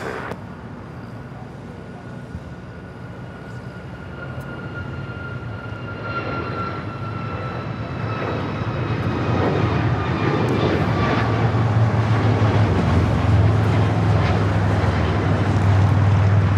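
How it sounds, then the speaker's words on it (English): Alaska Airlines Boeing 737 MAX 9 jet taking off at Los Angeles airport, a steady broadband engine roar with a faint whine that swells louder over the second half, heard from a distance without talk. "This is Alaska Airlines 1083 taking off to Seattle on the MAX 9."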